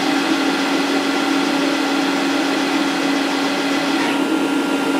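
Bridgeport Torq Cut 22 CNC machine spindle turning at about 500 RPM, a steady, even mechanical whir with a constant hum, running alone without pause.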